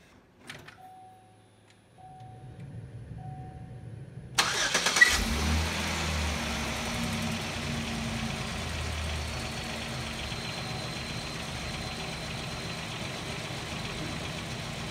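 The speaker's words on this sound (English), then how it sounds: "So let's go ahead and start it and get it off these ramps." A 2008 Chevy Equinox engine cranks briefly and catches, then settles into a steady, fairly loud idle close by that continues unbroken to the end, with a few faint clicks and a short tone before the start.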